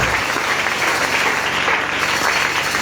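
A church congregation applauds the Lord in a dense, steady wash of clapping that fills the room and holds at an even level throughout, with faint voices underneath.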